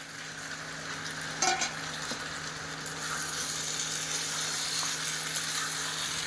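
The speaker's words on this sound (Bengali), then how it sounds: "তেলটা ছেড়ে দিয়েছে, এবার আমি ইঁচড়গুলো দিয়ে দেবো।" Pieces of young jackfruit dropped into hot oil in a pan sizzle and fry as they are stirred, making a steady close hiss with a brief clatter near the start.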